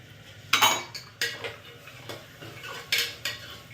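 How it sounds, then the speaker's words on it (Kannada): Green peas are tipped into a pan for fenugreek (methi) pulao, giving a few bright metallic clinks and scrapes of a spoon against the pan, spaced irregularly over a low background hum. "ಇವಾಗ ಬಟಾಣಿ ಹಾಕ್ತಾಯಿದ್ದೀನಿ"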